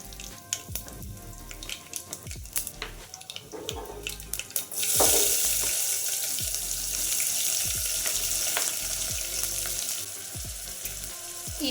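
Bay leaf, cardamom and cloves drop into hot oil in a pan, a few clinks and taps giving way to a sudden loud sizzle that settles into a steady frying hiss, close up and without talk.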